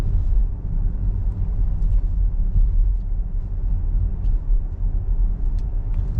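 Steady low road rumble and engine hum from a Nissan X-Trail e-POWER 2023 slowing under its one-pedal e-pedal braking, continuous and moderately loud with no speech.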